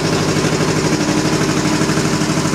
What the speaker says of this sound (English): I'll fire it up for you right now. Oh, okay, great. That sounds like a Goldwing.